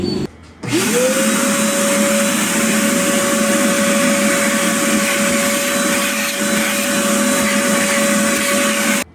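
A vacuum cleaner switches on after a brief pause and runs steadily, a loud droning whine with a constant high motor tone throughout, during a DIY car wash of a Tesla Model Y.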